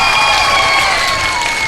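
A studio audience at a Pakistani TV show gives loud, dense applause mixed with cheering, filling the whole moment without pause.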